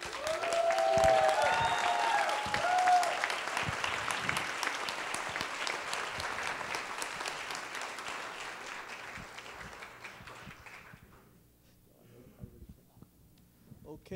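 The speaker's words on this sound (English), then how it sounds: "he really does deserve not one, not two, perhaps three rounds of applause" Audience applause at a talk on economic crisis and democracy in Brazil, a dense, sustained round of clapping that stays loud for about ten seconds, then fades out, with a few scattered claps and faint voices at the end.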